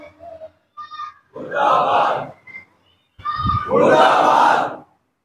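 A child at a Muharram majlis at Dargah Panja Sharif shouts a religious slogan in two loud, strained bursts, each answered by a roaring crowd chant, with short pauses between.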